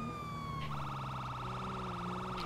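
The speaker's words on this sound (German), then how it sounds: "haben Code 3, das heißt mit Sirene anfahren" A police car siren in the game GTA V with the LSPDFR mod, wailing loud and near, its pitch sweeping and switching between tones over steady road noise.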